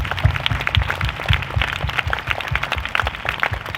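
An audience at a church gathering in Jagdalpur claps in a quick, rhythmic, somewhat uneven pattern, moderately loud and close, with no speech over it.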